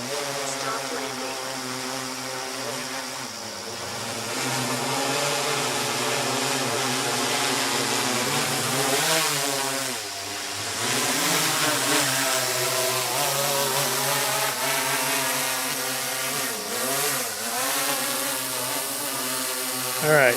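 A DJI Inspire 1 quadcopter running 9000 mAh batteries hovers and sets down, its rotors giving a steady, close, buzzing whine whose pitch dips and wavers as it descends and lands.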